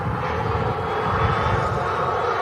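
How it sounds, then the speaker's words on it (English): A Jet2 Airbus A330 roars down the runway on its takeoff roll, a loud, steady, broad jet rumble that holds unbroken throughout. "Jet 2 A330 on the roll."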